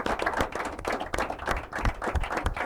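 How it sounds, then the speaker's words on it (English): An audience at a school competition session claps warmly for the participating schools, a steady, dense patter of many hands sustained throughout without pause. "a very warm round of applause to each and every one of them"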